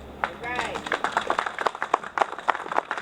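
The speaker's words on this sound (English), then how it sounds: "Please give him a hand." Applause breaks out for a school superintendent at a Black and Brown unity rally, the crowd's clapping rising into steady, dense bursts after a voice fades out.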